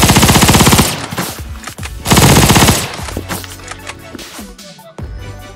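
Rapid automatic gunfire in a shooter video game, loud and close, with long rattling bursts separated by short gaps, followed by scattered shots and clatter.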